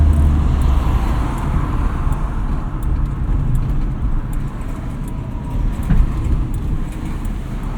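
A 1979 Honda Prelude with a 1.8 liter single overhead cam engine running while driving, a steady low hum with road and cabin rumble, even and moderately loud throughout with no talk.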